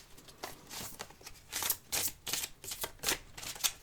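Tarot cards are shuffled for a general reading in a series of quick, crisp riffling bursts, close and fairly loud, with no talking.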